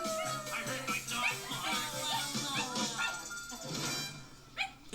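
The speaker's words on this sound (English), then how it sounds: "I heard my dog bark." A dog yips and whimpers in a series of short, high calls over a busy background of music and other sound, moderately loud throughout.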